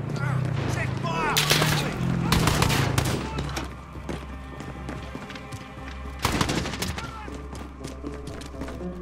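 Gunfire in the video game Modern Warfare: loud bursts of shots and sharp cracks with booming impacts, over game music and combat noise, with voices speaking at moments.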